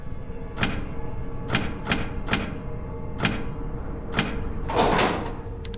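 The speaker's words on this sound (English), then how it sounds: "As soon as you've heard the pattern, you can reproduce it with a door knocker as follows." A door knocker in the horror video game Tormented Souls raps out a knocking pattern: single sharp knocks spaced apart, then a quick pair, more spaced knocks and a final heavier knock with a rattle, all close and clear over a steady hum.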